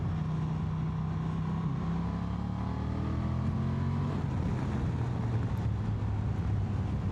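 Honda XL750 Transalp motorcycle engine running steadily in third gear after a downshift, a loud continuous low drone with wind rush, the pitch easing slightly downward partway through, no talking.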